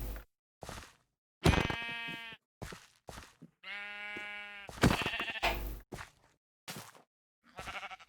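Sheep bleat in the video game Minecraft: several distinct, loud, nasal baas sound one after another, separated by short pauses and mixed with brief clicks and hits.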